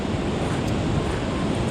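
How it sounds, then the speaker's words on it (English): A waterfall pouring near ocean surf at Short Beach produces a dense, steady rushing roar, loud and close, with no pauses or other sounds. "Another waterfall out here."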